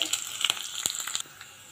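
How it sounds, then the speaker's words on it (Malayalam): Two dried red chillies and long-sliced onions fry in hot oil after mustard seeds have popped, a tempering for a bilimbi and prawn curry. A soft sizzle runs under sharp, scattered crackles and pops that thin out near the end. "രണ്ട് ഉണക്കമുളകും ഉള്ളി നീളത്തിലരിഞ്ഞ ഉള്ളിയും ആണ് ചേർക്കുന്നത്."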